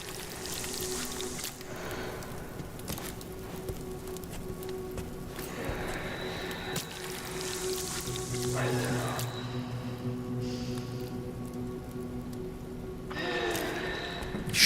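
Light rain in a video game patters steadily as a soft, continuous hiss of drops, with faint game sounds and a voice mixed in underneath.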